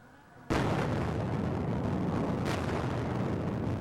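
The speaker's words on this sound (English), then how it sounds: "Explosions throwing huge plumes of smoke and debris in the air." A sudden heavy blast from an Israeli airstrike on southern Beirut, erupting into a sustained roaring rumble with a second burst partway through, loud and distant.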